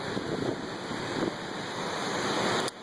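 Water pours down Graffiti Falls in a continuous, broad rushing roar heard close, with wind buffeting the microphone and a sharp click near the end; no one speaks.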